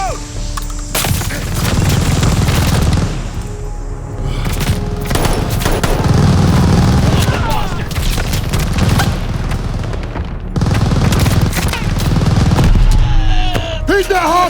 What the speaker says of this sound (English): MG's tearing this place apart!